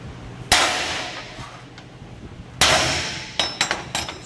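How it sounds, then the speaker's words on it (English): A roughing hammer drives a steel chisel along the style line of a severely damaged car fender, ringing out in sharp metallic strikes: two heavy isolated blows, then a quick cluster of four lighter taps near the end. "we'll use a roughing hammer or a small sledge"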